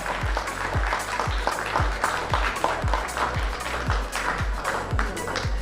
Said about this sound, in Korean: 올라올 때큰 박수 부탁드립니다